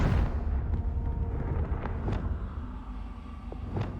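Confringo blasting spell explosion in Hogwarts Legacy, a dense, rumbling burst that fills the whole clip, with sharp cracks and crackling debris sounding through a steady low roar.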